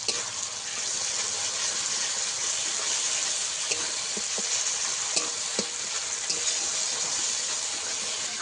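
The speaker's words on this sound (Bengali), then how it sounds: "মশলা একসঙ্গে কিছুক্ষণ কষিয়ে নিয়েছিলাম তারপরে জিরেটা দিয়ে দিয়েছি" Ground ginger and cumin paste masala frying in oil in a pan for a kalbosh fish curry, a loud steady sizzle with scattered sharp crackles and occasional stirring scrapes, close and continuous.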